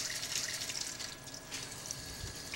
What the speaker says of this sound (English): I'm going to rinse them directly under cold water.